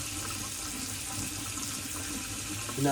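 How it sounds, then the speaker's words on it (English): Tap water runs steadily over a dirty G-Shock GW-800 watch as it is rinsed, a continuous close splashing stream with no voices, rising slightly at the very end. "So you just give it a good rinse."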